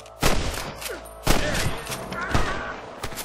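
Gunfire during a shootout at Pike Basin in Red Dead Redemption: four loud, sharp cracking shots spaced roughly a second apart, each with a booming tail, over a low game soundscape.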